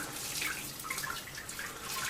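Sparge water is poured from a 2-litre jug into the top of a Robobrew v3 malt pipe during an all-grain beer brew, a steady close splashing trickle running throughout.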